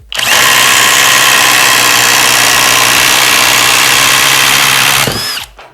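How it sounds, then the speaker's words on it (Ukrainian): A Worcraft CIS-S20LiB cordless impact wrench runs at second speed, driving into 90 mm pine. It makes a loud, close, continuous buzzing hammer for about five seconds, then winds down and stops. "за скільки часу він проб'є на другій швидкості 90 мм соснового"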